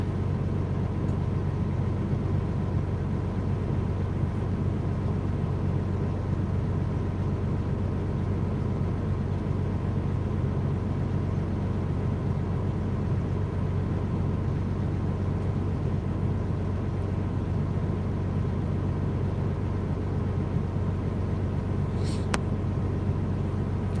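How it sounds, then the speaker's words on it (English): Heavy car traffic on a Texas race day: a constant low rumble of idling and crawling engines, steady and unbroken throughout, with a faint click near the end and no talking. "Traffic's ridiculous right now."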